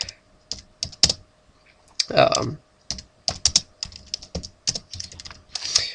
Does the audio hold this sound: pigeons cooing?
no